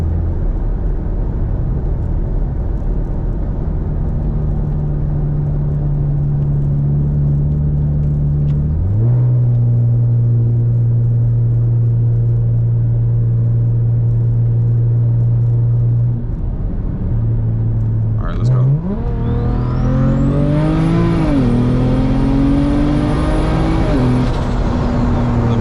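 A big-turbo BMW 335i with a 3.5-inch exhaust idles, revs, then pulls hard, its engine rising steadily in pitch while a high turbo spool whine climbs and holds, loud and close from inside the car.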